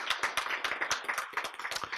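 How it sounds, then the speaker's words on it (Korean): Scattered hand claps from a small lecture audience at a Korean Christian teaching session, fairly quiet and sparse, with distinct individual claps over about two seconds. "박수"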